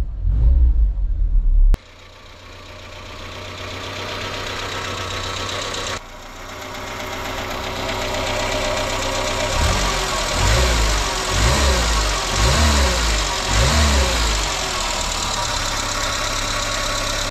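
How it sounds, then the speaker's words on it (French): A Renault Super 5 engine starts and then idles steadily with a constant mid-range hum, with a few short revs partway through before it settles back to idle. "La voiture tourne très bien. Le ralenti est très stable."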